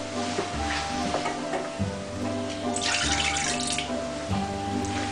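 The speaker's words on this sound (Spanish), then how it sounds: "un chorreón de agua." A splash of water poured into rum and sugar syrup while making a peach mousse cake, a steady watery trickle running for several seconds over low background hum, with a brief rush midway.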